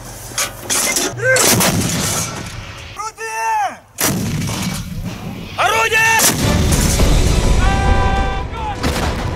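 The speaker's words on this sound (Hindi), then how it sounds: "बखमूत में रूस की MSTAB तोपखाना रेजिमेंट ने यूक्रेनी सेना पर बेहद तीखे और प्रचंड हमले किए हैं" Heavy Russian artillery fire in Bakhmut pounds out in loud, close booms and crackling blasts, repeated over several seconds, with whistling tones and brief gaps between salvos.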